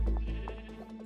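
A sheep in the video game Minecraft bleating, a short, close, wavering baa alone.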